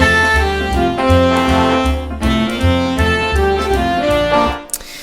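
Virtual alto saxophone in Logic playing sustained legato notes without vibrato, smooth connected tones over a low accompaniment, ending with a short fade.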